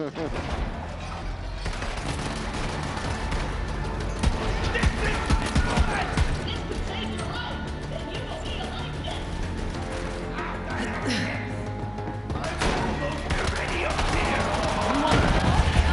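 Gunfire from guns in the Borderlands 3 video game, with dense, continuous bursts of shooting and impacts running throughout under a busy game mix and occasional talk.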